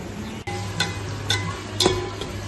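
Onions and tomatoes stirred and fried in a pan for tikka biryani give a steady close sizzle, with a sharp clatter near the start and three scraping stirs spaced through the clip.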